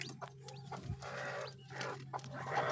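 Newly hatched chicks peep and cheep in soft, brief calls close by over a faint steady hum.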